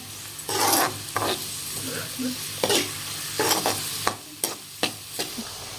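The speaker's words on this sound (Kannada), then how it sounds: "ಉಳ್ಳಾಗಡ್ಡಿ ಮಿಕ್ಸ್ ಮಾಡಿ ಒಂದು ಸ್ವಲ್ಪ ಕೆಂಪು ಆಗ್ಬೇಕು" Chopped onions are stir-fried for street-style veg fried rice: a sizzling pan under repeated scraping strokes of a spatula, ending in a run of crisp metal taps, close and moderately loud, with no talk.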